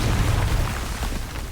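A Confringo fire-blast spell bursts in the video game Hogwarts Legacy: a single loud, deep whooshing explosion that rumbles and slowly fades over a second or so, with no talking.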